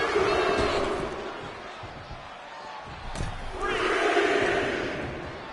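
A wrestling arena crowd in WWE 2K25 roars and cheers, swelling loud at the start, dipping, then surging again, with a ring slam midway and a commentator talking over it.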